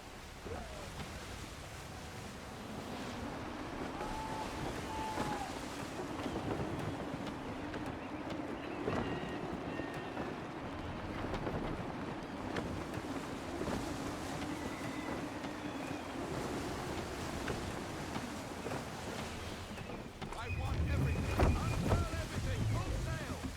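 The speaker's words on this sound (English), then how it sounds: "Gusty winds can be difficult to manage." Gusty wind at sea in Assassin's Creed 3 Remastered, a steady broadband rush with creaking ship and water sounds, swelling louder near the end, with faint voices beneath.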